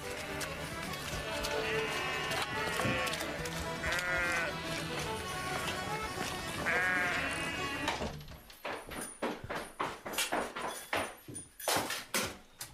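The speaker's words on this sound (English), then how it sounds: "There's your sheep, Magda." Several sheep bleat repeatedly over background noise, followed by a series of sharp thumps and knocks toward the end.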